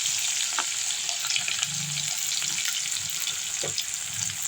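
Onion and green chilli sizzle steadily in hot oil while making nethili meen thokku, a close, continuous hiss with faint stirring scrapes and small pops.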